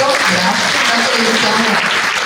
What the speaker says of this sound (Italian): ancora un applauso a Matteo Righetto